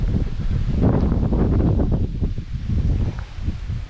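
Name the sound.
wind blowing outdoors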